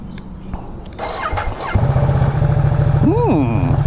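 A 2022 Ducati Diavel 1260S motorcycle engine catches after a few faint clicks and settles into a loud, steady low rumble, with a brief rising whistle-like tone near the end.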